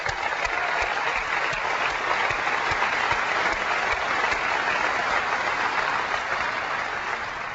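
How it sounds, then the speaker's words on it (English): A large keynote audience at Macworld Expo 2001 Tokyo gives sustained, even applause for NVIDIA and the GeForce 3, a dense wash of clapping filling the whole stretch without pause. "I'd like to give David and all of his colleagues at NVIDIA a round of applause for the GeForce 3"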